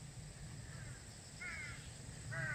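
Crows caw in a mountain forest at Yumyeongsan, feeding on dogwood berries; two short harsh calls sound at moderate distance over a steady low background hum.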